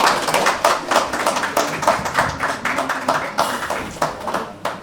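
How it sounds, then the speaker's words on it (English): Close, loud clapping from spectators at a Goan community football tournament at Wembley, a steady patter of many hands that swells and eases over several seconds. "So a big round of applause to everyone."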